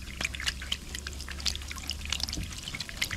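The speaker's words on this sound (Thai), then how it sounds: "ก็เลยต้องล้างมือหน่อย" Water pours and trickles steadily at close range as hands are washed, a continuous splashing stream with scattered droplet sounds and no voices.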